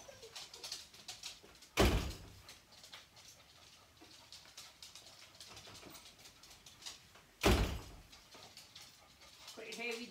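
A heavy door swings open and shut indoors, giving two loud thuds several seconds apart over quiet room noise and faint rustling.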